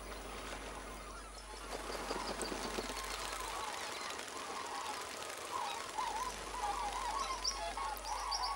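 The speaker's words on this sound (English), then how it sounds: "During the day, thousands of birds come here to feed." A flock of birds feeding on the flooded plains of Venezuela calls in faint, scattered chirps and chatters over a low wash of water and background rumble.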